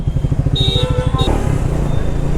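A Triumph Speed 400 motorcycle engine lugging in sixth gear at low speed in traffic, a loud, close, rapid thumping pulse, with a whistling tone over it and a rougher patch near the end.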